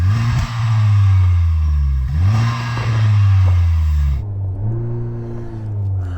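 A Honda Civic Type R FK8 engine revs loudly and close, climbing in pitch, dropping back and surging several times, with a strong low exhaust drone between the blips.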